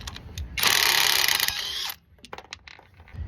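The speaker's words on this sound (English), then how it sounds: "take the 21mm socket with an impact wrench and loosen the bolts" A battery impact wrench with a 21mm socket loosens rear brake caliper bolts on a 2007 Kia Sorento: one loud buzzing, rattling burst of just over a second, then quieter clicks and handling noises.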